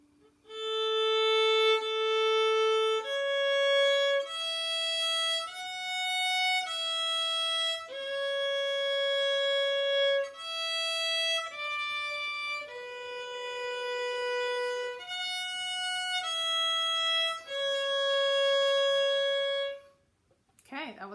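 The first line of Buffalo Gals played on a bowed string instrument, a clear sequence of sustained notes in a steady rhythm ending on a long held note, close and alone with no talking.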